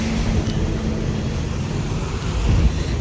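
A car pulls away and drives on, its engine and road rumble forming a steady, loud, close wash of noise with no break.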